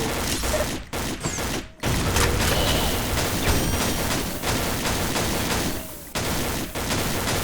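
Rapid gunfire from the Xshot online shooting game, fought on a mummy stage: dense, near-continuous bursts with brief pauses, loud and close, under occasional mechanical clicking.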